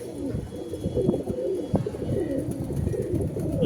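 Pigeons coo steadily in a loft, soft rolling calls overlapping one another, close and continuous throughout.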